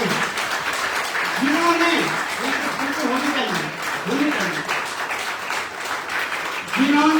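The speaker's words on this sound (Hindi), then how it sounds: "जोरदार ताली होनी चाहिए" A seminar audience applauds throughout, a steady wash of many hands clapping beneath someone speaking loudly into a microphone.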